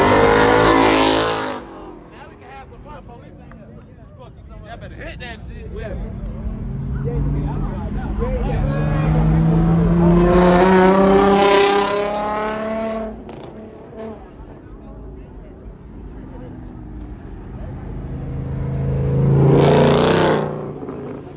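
Cars leaving the Caffeine and Octane car meet rev and accelerate away in several loud surges that swell and fade as each passes, with people talking and cheering between the passes.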